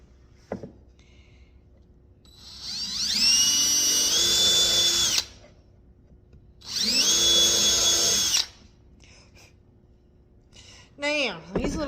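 A small power drill runs in two sustained bursts of a few seconds each, whining up to speed near the mic, with short pauses and handling noise between while building a phone or tablet stand.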